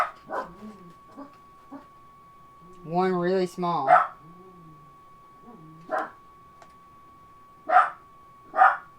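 Several short, sharp dog barks at a distance, spaced irregularly, with someone talking in between and a steady electrical hum underneath.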